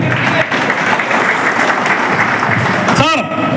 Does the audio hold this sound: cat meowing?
no